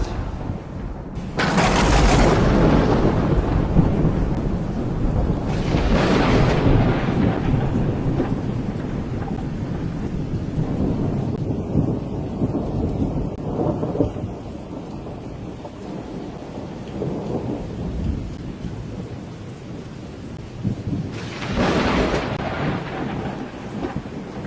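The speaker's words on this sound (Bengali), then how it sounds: "মেঘ ডাকছে" Thunder rumbles in several deep, rolling bursts over a continuous hiss of steady rainfall, with the loudest cracks near the start and near the end.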